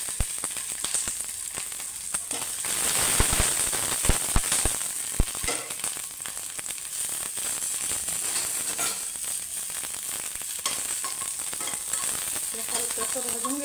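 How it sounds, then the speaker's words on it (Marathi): Garlic cloves, green chillies and ginger roasting in oil in a pan for baingan bharta, a steady close sizzle with crackling pops and clattering spatula stirs, loudest early on, then a softer, even hiss. "हलकंसं भाजून घ्यायचं लसूण, मिरची आणि आलं।"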